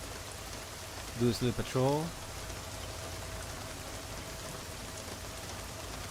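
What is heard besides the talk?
heavy rain in the video game Deus Ex: Mankind Divided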